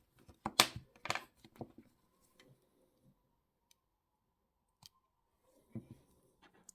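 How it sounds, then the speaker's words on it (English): Jewelry-weaving wire snipped with small cutters while making a wire-wrapped stone pendant, a few sharp close clicks and snips early on, then sparse faint ticks and handling noises in near silence. "So I need to cut off that bit of weaving wire."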